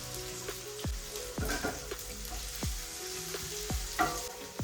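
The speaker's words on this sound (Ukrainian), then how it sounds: "Відразу на гарячу сковорідку відправляю селеру" Celery sizzles steadily in hot oil in a pan, with a few sharp clinks and scrapes of a utensil stirring it close by.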